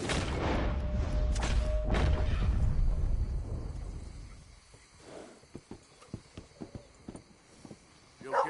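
Horse hooves clip-clop in Red Dead Redemption 2, a series of close, distinct thudding steps in an uneven rhythm following a loud rumbling wash of sound.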